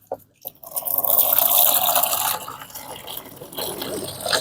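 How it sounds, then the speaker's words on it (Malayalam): Water runs into a cracked plastic tank that leaks, starting with a few short splashes and then a close, full rushing flow that eases slightly before surging again near the end. "നമ്മൾ വെള്ളം പിടിച്ച് തുടങ്ങിയപ്പോൾ തന്നെ ഇതിനകത്ത് നിന്ന് വെള്ളം ലീക്കാവുന്ന നിങ്ങൾ കാണുന്നുണ്ടാവും"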